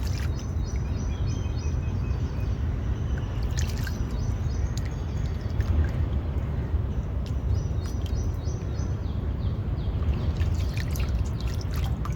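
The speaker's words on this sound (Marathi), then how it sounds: "तर आता अशाच मी सगळ्या आळंब्यांना धुवून घेते" Wild alambi mushrooms foraged from a farm field are washed in a vessel of water, giving a continuous close sloshing and trickling with small drips and squishes throughout.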